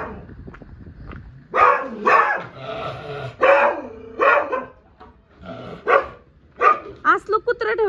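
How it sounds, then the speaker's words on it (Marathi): A pet dog kept at home barks in a run of loud, close, excited barks and short yips, with gaps between the bursts and a quick flurry of yaps at the end. "असलं कुत्रा ठेवलंय, तू कसं माणसांनी यायचं?"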